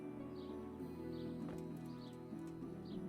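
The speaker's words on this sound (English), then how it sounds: "so horse riding it is" Horse hoofbeats while riding in Kingdom Come: Deliverance, a steady clip-clop gait under a constant low ambient game bed with faint bird chirps.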